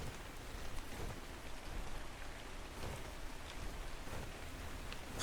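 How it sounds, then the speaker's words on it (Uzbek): Rain falls in a video game as a steady, soft hiss of drops on surfaces, continuous and faint throughout, with no voices. "Yomg'ir yog'ardi."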